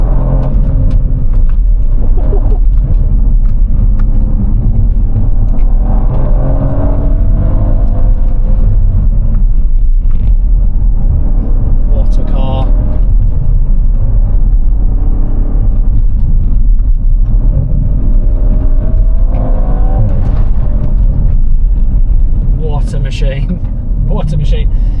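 An Audi RS4 Avant Competition accelerates hard, its engine a loud, deep rumble rising and falling through gear changes, heard from inside the car over a long pull.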